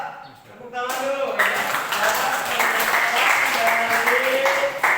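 Classroom applause from a group of students, a sustained dense clapping that starts after a brief pause and continues steadily, with voices mixed in underneath.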